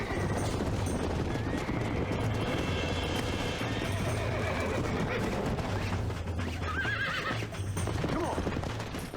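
A horse in the video game Red Dead Redemption whinnies and neighs repeatedly amid clip-clopping hooves and busy game sounds, loud and close throughout, with voices talking over it.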